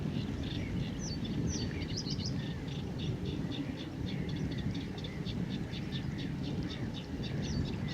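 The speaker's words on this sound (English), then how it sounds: "Sedge warbler singing down there somewhere in those reeds." A sedge warbler sings from a reedbed on a coastal walk, a run of scratchy chirping phrases repeating steadily at a moderate distance over a constant low rumble of wind or distant traffic.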